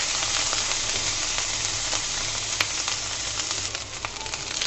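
Small shrimp frying lightly in a pan, a steady close sizzle and crackle with faint pops, continuous and fairly even throughout.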